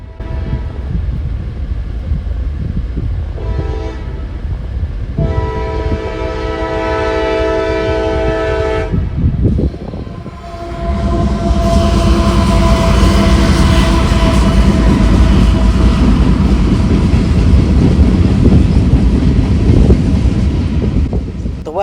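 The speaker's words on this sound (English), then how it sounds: "The westbound in question would be an ethanol train" Westbound ethanol freight train passing a railroad crossing near Marion Union Station, with horn blasts sounding loud and close in bursts before the rumbling, clattering cars roll steadily through.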